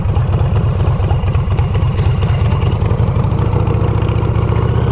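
A 2007 custom bobber motorcycle engine idles close by, a loud, steady low throb with rapid uneven pulsing that holds throughout, no voices.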